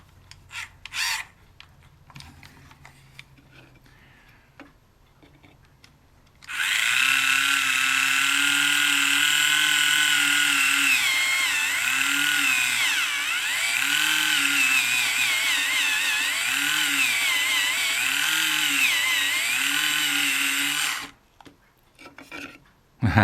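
A drill bores into wood on a model ship, a steady whirring grind about fourteen seconds long whose pitch wavers as the pressure changes, preceded by quiet handling clicks and followed by a short pause.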